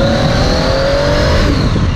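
A Triumph Tiger 800 XRX motorcycle accelerates on a road ride in India, its engine note rising steadily, loud and close, mixed with heavy wind rush.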